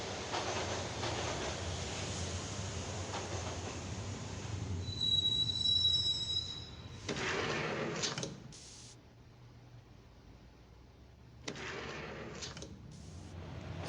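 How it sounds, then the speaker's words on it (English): Squealing train wheels and rumbling rail cars from the Max Payne video game, a loud, sustained metallic screech over the ride noise, breaking off and returning in bursts with no talking. "The train doors had already shut behind me, and I was in for the ride."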